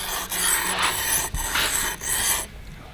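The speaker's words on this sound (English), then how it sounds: "you end up with a block of sand that then gets carved" Rasping scrapes carving a hardened sand block mold for an iron pour, four long abrasive strokes with brief pauses between them, close and loud, then a quieter tail.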